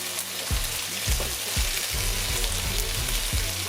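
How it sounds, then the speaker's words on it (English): Lamb chops sizzling and frying in a pan, with a continuous crackling hiss and several sharp clinks and scrapes at irregular intervals. "since now it's been frying for a little bit"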